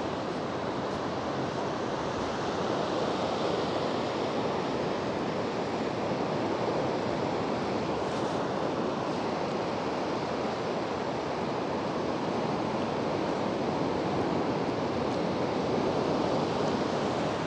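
Steady roar of ocean surf breaking on a beach where sea lions gather, a continuous broadband wash with some wind, loud and unbroken with no voices.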